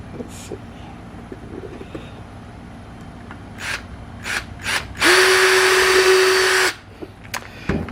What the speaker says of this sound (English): got a tiny little pilot hole I'm going to drill first.